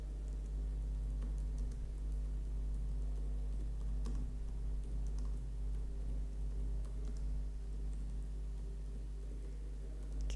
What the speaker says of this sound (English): this is the section for notes, where you as a clinician, you can get to use to type in any notes that you have about the patient.